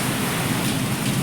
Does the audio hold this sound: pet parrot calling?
no